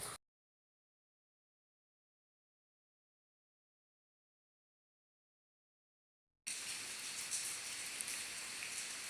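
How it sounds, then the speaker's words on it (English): Near silence for several seconds, then a steady hiss of rain pattering onto lights at a church graveyard comes in abruptly and continues to the end. "The rain falling onto the lights is"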